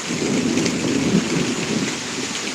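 Steady thunderstorm rain hisses close by in Pittsburg, Kansas, with a low, rolling rumble underneath, like distant thunder blending into a continuous downpour.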